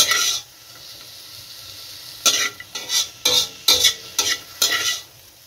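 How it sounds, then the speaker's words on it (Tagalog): Food sautéing in butter in a pan gives a low background sizzle broken by about six sharp bursts of stirring and scraping, each a loud rasp lasting under a second, close up with no talk. "Butter na ang ginisa ko dito para mabango."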